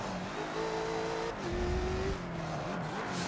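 Race car tires squeal and slide in a racing sim set on the Nürburgring Nordschleife, a long pitched screech held over a steady engine drone, close and loud without pause.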